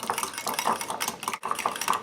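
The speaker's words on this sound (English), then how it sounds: "Now whisk all your white together." Egg whites are whisked in a bowl, with quick rhythmic clinking strokes of metal against the bowl, close and lively, pausing briefly once.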